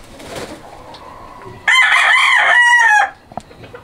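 A Clements Grey gamecock rooster gives one loud, close crow lasting over a second, preceded by soft clucking and followed by a few faint clucks.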